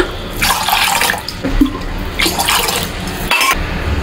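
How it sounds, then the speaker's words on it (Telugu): Water is poured from a glass into a pot on a stovetop while ragi porridge is being prepared, a steady close splashing stream in a few bursts, loud and without talk. "ఒక 3 గ్లాసుల నీళ్ళైతే వేస్తున్నాను"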